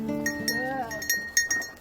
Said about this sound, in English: We have 35 goats right now.